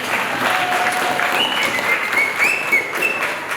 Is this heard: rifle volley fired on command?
no